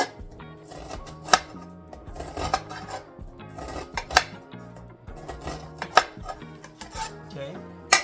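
A knife mincing onions on a cutting board for guacamole, with quick uneven bursts of sharp taps and scrapes close by, repeating through the whole stretch.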